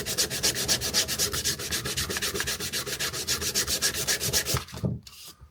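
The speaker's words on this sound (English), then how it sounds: "Give that a bit of a rub down." Wood is sanded by hand with fast, even back-and-forth rasping strokes, loud and close, stopping near the end.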